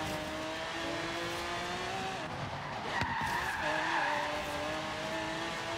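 A car skids after a handbrake tap in the Forza Horizon 3 video game, with a sustained tire squeal over a steady engine drone and a brief rise in the screech midway.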